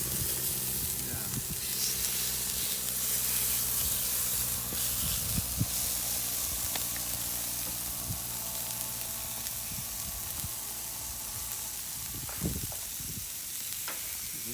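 Sausages and herrings sizzle together in a pan over an outdoor fire, a steady close frying hiss with occasional pops and scraping stirs throughout.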